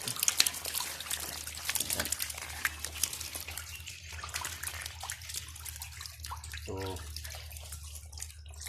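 Water pours from a tap into a cement catfish pond, a steady trickling and splashing that runs throughout alongside a low constant hum and some background noise.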